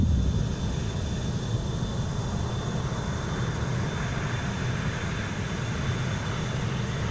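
Jet blast from an MD-80 in Microsoft Flight Simulator 2024 with the Maddog immersive audio pack roars loudly and steadily, a dense low rumble that holds without a break.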